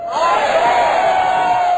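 A large, enthusiastic crowd cheers and whoops loudly and steadily, a continuous roar of many voices with no break.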